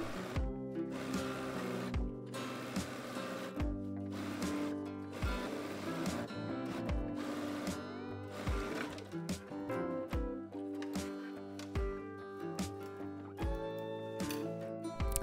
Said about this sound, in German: Ganz oben verriegeln wir, nähen im Abstand von 1 cm ganz bis hinunter zum Saum.